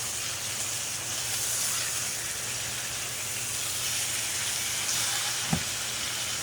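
Ribeye steak sears in a pan after being flipped, giving a continuous hiss of hot fat with a low steady hum underneath and one brief knock near the end. There is no talking.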